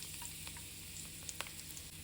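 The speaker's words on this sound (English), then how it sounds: "Continue to stir fry until the garlic and the ginger turn slightly brown." Garlic and ginger stir fry in hot olive oil in a pan, a faint, steady sizzle with a few light scraping ticks from stirring.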